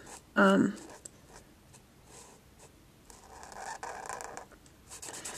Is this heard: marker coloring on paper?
yes